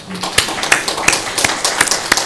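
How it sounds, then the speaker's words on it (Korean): A few people in a church clap in a sparse, uneven rhythm, sharp individual claps spaced about a third of a second apart, close by. "누군지 모르지만 박수 한번 보내봅시다"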